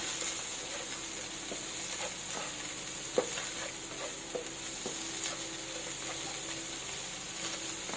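Fried rice stir-fried with egg in a pan, the egg being broken up as it cooks: steady close sizzling and frying hiss throughout, with scattered clicks and scrapes of the spatula against the pan.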